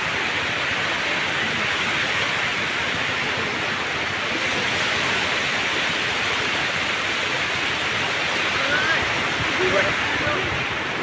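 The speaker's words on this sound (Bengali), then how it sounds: "সমুদ্রের ঢেউ" Steady broadband wash of sea waves on a quiet, secluded beach with clear water at Sitakunda, continuous and fairly loud with no clear breaks between surges.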